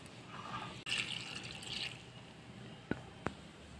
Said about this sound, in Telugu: ఇప్పుడు ఇందులో నీళ్ళు పోసుకోవాలి.